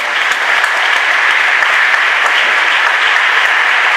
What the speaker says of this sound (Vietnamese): Một lần nữa chúng ta chúc mừng bằng một tràng pháo tay thật lớn.